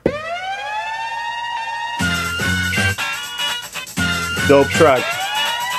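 A wailing police-style siren sample from a hip-hop track rises and sweeps alone, then continues over a pounding house beat, with a voice briefly talking over it.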